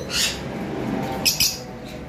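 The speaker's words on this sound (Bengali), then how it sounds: "এইখানে রয়েছে নর্মাল মুভ লাভবার্ডের পেয়ার, দেখতে পাচ্ছেন।" Pet lovebirds at a bird farm squawk and chirp in a few short bursts, sharp calls rising above a low background hum, nearby, with no talking.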